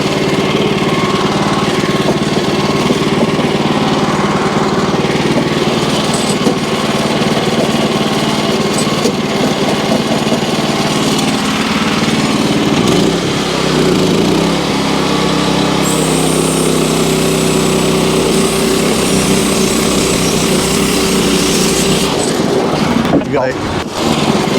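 Wood-Mizer LX25 sawmill cutting one-inch boards off a log cant: a loud, continuous engine whine with a changing pitch as the blade works through the wood, with a brief talking voice underneath.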